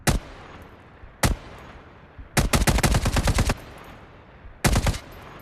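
Close, sharp bursts of AK-47 automatic rifle fire in Call of Duty Mobile: single shots, then a rapid volley of about ten rounds, and a final short burst, with no voices.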